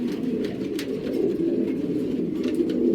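Racing pigeons coo in a low, continuous murmur, close by and steady, with no voices over them.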